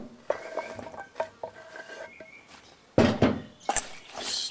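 A spoon stirs a rhubarb, lemon juice and sugar mixture in a bowl, producing a few irregular clinks and scrapes against the bowl, close and fairly quiet, with a louder clatter near the end and no talking.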